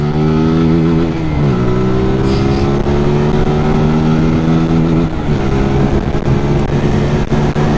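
A Zontes Roadster 125 motorcycle in sport mode accelerates hard, its engine loud and close, rising in pitch through the gears with two shifts where the tone drops before climbing again.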